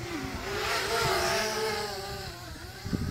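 Blade 200QX quadcopter motors whine steadily under reduced power, a buzzing drone with shifting pitch that swells slightly midway and fades near the end, heard alone and fairly close.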